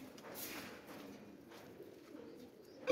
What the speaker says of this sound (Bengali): এই হলো সাপচিলা নর কবুতর